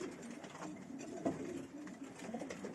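Young pigeons coo softly in a loft, a faint, low murmuring with one slightly stronger call partway through. The sound is quiet and continuous.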